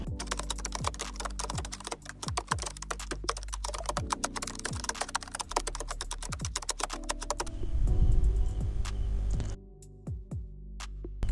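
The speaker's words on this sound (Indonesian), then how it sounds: "Kalian ketik" Rapid, steady typing on a computer keyboard while an AI image generator prompt is entered, close and clear with no talk, with a brief louder rumble near the end.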